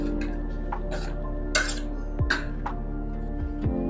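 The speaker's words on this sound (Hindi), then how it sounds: "इसको अच्छे से मिक्स करेंगे।" A spoon mixes sprouted chickpea chaat in a bowl, dressed with lemon juice and no oil, producing a few irregular clinks and scrapes against the bowl, close and clear, with no talking.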